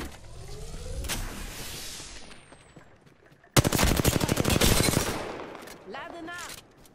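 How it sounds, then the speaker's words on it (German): Rapid automatic gunfire bursts from an Apex Legends match, with a loud dense volley in the middle, plus a sharper ring and reverb tails, with game effects and a faint voice between shots. "Stehe unter Beschuss."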